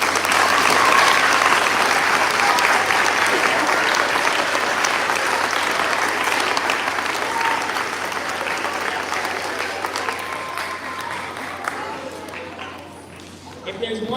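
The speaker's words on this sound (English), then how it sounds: "Please give yourself a round of applause." A school audience applauds at the Maine Teacher of the Year announcement with loud, sustained clapping from a large crowd that fills nearly the whole stretch before easing and dying away at the end.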